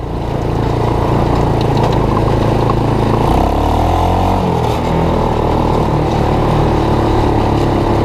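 An ATV engine fitted to an EZGO golf cart with a custom exhaust, unused for a year, revs loudly and close, a rough continuous rumble rising and falling in pitch throughout.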